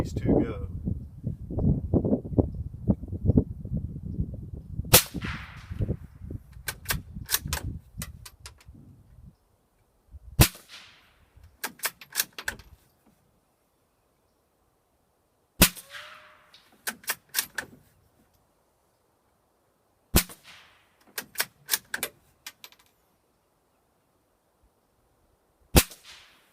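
Ruger American rimfire rifle firing at Federal targets outdoors: a series of sharp single shots spaced a few seconds apart, each followed by quick faint clicks and a brief ringing tail, starting after a stretch of talk.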